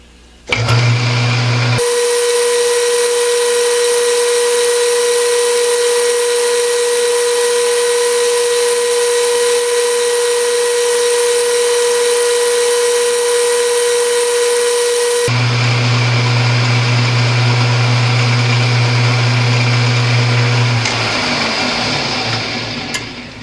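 A lathe drills into metal with a 3/8 inch stub drill, giving a steady, loud machine whine with a constant motor tone that shifts partway through as the spindle load changes, with no talking.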